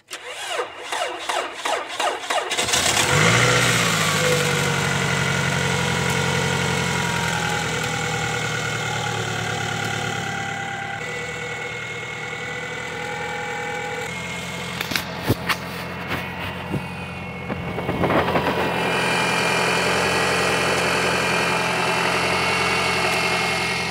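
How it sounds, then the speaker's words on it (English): Toyota 2.4-litre four-cylinder engine fresh from a timing chain replacement cranks briefly, catches and settles into a steady close idle, with a short rev blip midway and a few clicks near the end. "I'm gonna try to turn on this engine, this vehicle, and see if everything goes well"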